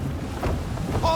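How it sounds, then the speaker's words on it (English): Gusty wind buffets a sailing ship at sea in Assassin's Creed III, a rushing, whooshing roar with surging gusts and a faint creak near the end, all in one brief burst. "Gusty winds can be difficult to manage."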